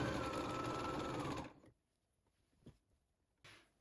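Sewing machine stitching an armhole seam on a blouse: a steady close whirring hum for over a second that stops abruptly, followed by faint clicks and a soft rustle of fabric.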